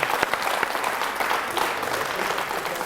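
Audience applause at a school event for top students in Terjola, Georgia: dense, steady clapping from a sizable crowd, close and continuous throughout with no talk over it.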